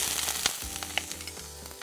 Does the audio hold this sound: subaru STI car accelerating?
no